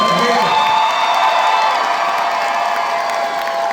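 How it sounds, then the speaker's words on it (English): Convention audience at a live tabletop role-playing show keeps up loud cheering and applause, a steady roar of voices and clapping that holds at an even level throughout. "And a round of applause for Mark as well."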